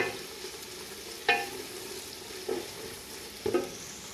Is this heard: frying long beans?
yes